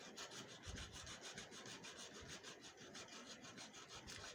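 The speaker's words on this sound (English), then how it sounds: "Now this is just an ordinary fingernail file." Ordinary fingernail file rasping back and forth against plastic bodywork, a close, steady rhythmic scratching with even strokes, quiet and alone.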